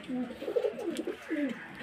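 Soft, throaty cooing from pigeons, including a male bird, at a pigeon market in Beldanga, with a couple of rolling coo phrases close by over faint background noise.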